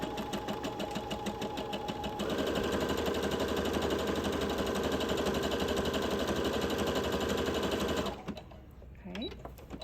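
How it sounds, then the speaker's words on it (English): Sewing machine stitching a straight seam across fabric, a steady rapid mechanical whir with a quicker, busier stretch in the middle before it stops abruptly near the end. "I'm just going to stitch straight across."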